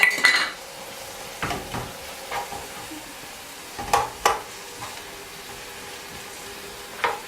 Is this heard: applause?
no